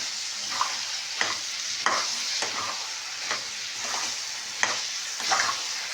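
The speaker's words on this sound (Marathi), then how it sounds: "तर आता हे वाटण बघा मी थोडंसं मिक्स करून घेते." Ground spice paste is stirred in a hot pan with a spoon. Repeated scraping strokes sound over a continuous oily sizzle, close up and with no talking.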